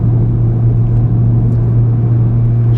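Volkswagen Golf R engine heard from inside the car as a steady, loud, low drone with a deep constant hum and no talking.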